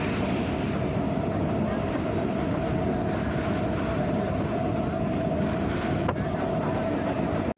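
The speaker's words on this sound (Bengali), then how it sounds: "আমাদের ট্রেনটা দু নম্বর প্ল্যাটফর্মে দিল" A train standing at or pulling into a railway station platform, giving a steady, loud low rumble and hum throughout with a constant tone, like idling machinery, and no clear voices.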